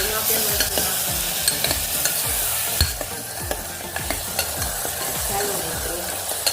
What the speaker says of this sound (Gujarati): એને સ્વાદ પ્રમાણે મરચું નાખી દઈશું, હલાવી નાખીશું